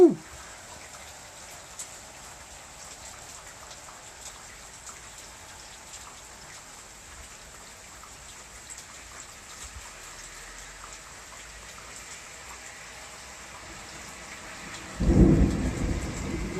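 Steady rain patters throughout during a thunderstorm in the Rhône-Alpes region, then a deep rumble of thunder swells near the end, close and heavy.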